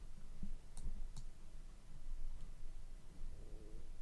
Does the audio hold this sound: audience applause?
no